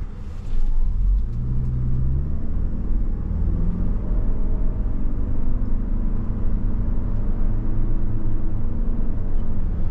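A 2023 Toyota Venza Limited pulls away from a standstill, its engine and road rumble building steadily and loudly from near the cabin, a continuous drone that holds for the whole stretch with no talking.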